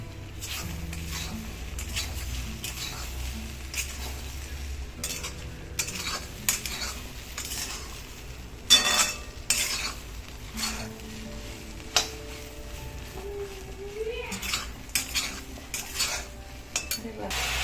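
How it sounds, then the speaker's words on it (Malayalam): Roasted soya chunks are tipped into a pan with chilli powder and stirred, a run of close metal spoon scrapes and clinks against the pan with faint sizzling beneath, louder clatters around the middle. "നമ്മൾ വറുത്ത് വെച്ചിരിക്കുന്ന സോയ ചങ്ക്സ് ചേർക്കാം."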